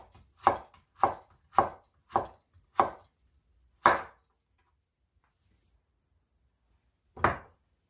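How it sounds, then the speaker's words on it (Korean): A kitchen knife chops ingredients on a cutting board during Korean cooking certification prep, with six crisp, evenly spaced strikes followed by a pause and one final chop. The sound is close and clear in a quiet room. "자, 이렇게 나머지도 썰어 보도록 하겠습니다."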